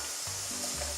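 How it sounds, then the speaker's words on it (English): Nutritional yeast being stirred into a pot of vegan beer cheese soup over the fire, a brief soft sizzling, bubbling hiss with faint scraping, close and quiet. "Throw in the 1/2 cup of nutritional yeast, just get that stirred in"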